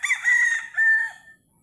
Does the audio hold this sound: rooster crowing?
yes